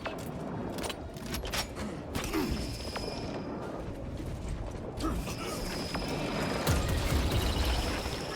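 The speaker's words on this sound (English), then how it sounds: "Reloading." Weapon being reloaded in Warhammer 40k Space Marine 2: a run of metallic clicks, ratcheting and creaking mechanism noises at moderate level over steady game background ambience, with no talk.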